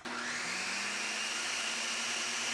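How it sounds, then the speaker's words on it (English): A blender whirs steadily as it mixes egg yolks for béarnaise sauce, a loud, even motor whine held without a break and no voices. "we'll just blend that for 10 to 20 seconds, get everything all mixed together"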